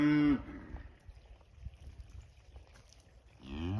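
Loud cow moos open and close the moment, deep drawn-out calls from nearby with quieter farmyard background between them.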